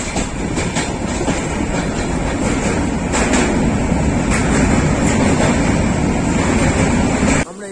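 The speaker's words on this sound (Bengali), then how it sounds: "ট্রেনটা রাইট টাইমে ঢুকছে" The Padatik Express rolls along with a loud, continuous rumble and rhythmic wheel clatter, heard from on board, before the noise drops off sharply at the end.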